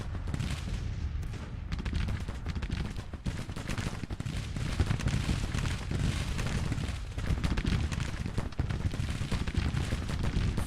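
In the Grand Tactician Civil War game, dense musket fire crackles continuously at cavalry, in rapid overlapping volleys with occasional heavier booms. The sound stays loud and sustained throughout.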